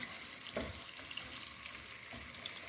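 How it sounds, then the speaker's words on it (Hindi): Garlic paste cooking in a pan over low-medium heat, giving a soft, steady sizzle with a couple of brief scraping stirs, fairly quiet and close. "लहसुन का मैंने जो पेस्ट कूटा हुआ था उसे मैं 1 मिनट के लिए पकाऊंगी"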